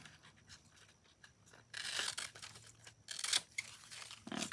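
Scissors cut around paper with soft, close snipping and rustling, growing louder midway into crisp bursts of crinkling and slicing, with quieter pauses between; no one speaks.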